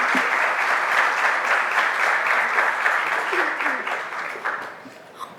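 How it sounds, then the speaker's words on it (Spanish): Audience applause fills a conference hall at an academic panel on social sciences and human rights in the Caribbean, a dense, steady wash of many hands that thins and fades toward the end. "Otro merecido aplauso para nuestro anfitrión."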